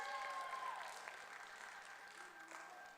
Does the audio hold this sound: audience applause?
yes